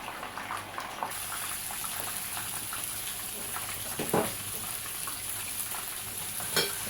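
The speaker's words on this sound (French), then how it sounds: "Voilà, on va frire." Salted fish frying in a pan with a steady, crackling sizzle that starts after about a second, marked by occasional sharper pops and light utensil clicks, close by and without talk.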